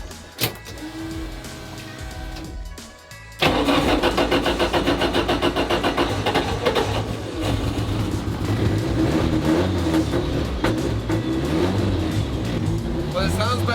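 A brief electric whir, then a 500bhp Mazda MX5 NC engine cranks and catches through its fitted exhaust, settling into a loud rumbling idle with occasional revs nearby.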